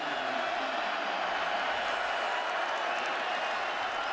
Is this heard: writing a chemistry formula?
no